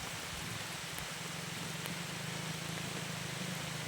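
Steady rain falls over a rural village, a dense continuous hiss with a low hum beneath it, moderately loud and unbroken throughout, with no talk.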